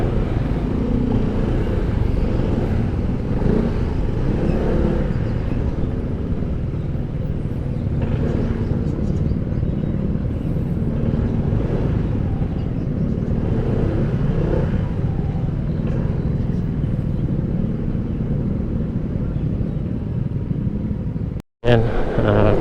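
Cars and motorcycles in congested midday road traffic on a commute, with a steady, close engine rumble running throughout and a brief dropout near the end.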